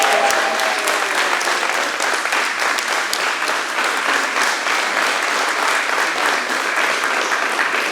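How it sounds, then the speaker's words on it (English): A seminar crowd gathered for an anniversary and belt promotion claps loudly and without pause, a thick, even roar of applause filling the room from start to finish. "John Lees, give him a round of applause."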